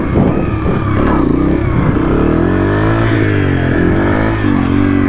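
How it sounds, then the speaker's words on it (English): Motorcycle engine revving hard during wheelie practice, a loud continuous near drone with pitch rising and sagging as the revs climb and drop, plus wind rush. "I'm getting too high up in the revs too quick, and then it's just sucking it down."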